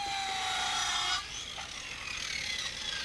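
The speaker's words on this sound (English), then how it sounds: "After the pillars had been cut off with a sawzall, my son Christian and I" A reciprocating saw cuts through wooden pillars with a steady, harsh buzzing rasp that eases off partway through, heard up close.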